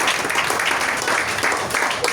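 Church congregation applauding steadily, a dense wash of many hands clapping at close range for the whole stretch, with some voices mixed in.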